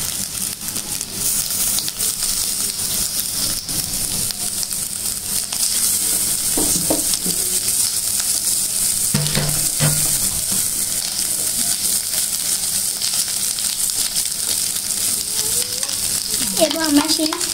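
Fried eggs are stirred into sizzling carrots and onions in a pan, a steady loud frying hiss running throughout with intermittent scrapes and clacks of the spatula.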